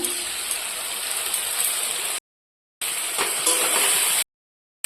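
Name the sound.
meat sizzling in a pan with cumin and chili paste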